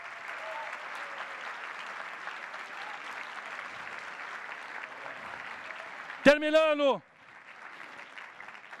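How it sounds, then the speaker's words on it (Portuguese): An audience applauds young candidates standing up at a Brazilian talk, a steady wash of clapping carried at moderate level, with a voice briefly speaking over it near the end before the clapping thins out. "Vamos aplaudir."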